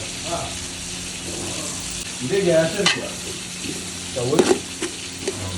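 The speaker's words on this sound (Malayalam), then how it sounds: "ഇനി സവാള നന്നായിട്ടൊന്ന് എന്ത് ചെയ്യാം, വഴറ്റിയെടുക്കാം" Onions sautéing in ghee sizzle steadily as a spoon stirs and scrapes the pan in a few brief bursts, with a voice talking over the cooking.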